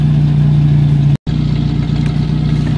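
A 1968 Commer 2500 van engine runs steadily with a strong low hum, close and loud, after a carburettor linkage adjustment. The sound breaks off for a split second partway through, then resumes unchanged.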